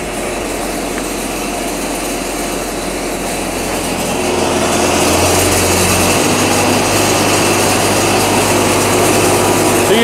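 A diesel-powered, truck-mounted enclosed sewer jetter runs with a Warthog nozzle on a half-inch hose, a loud, continuous engine and pump drone that grows slightly louder and fuller partway through.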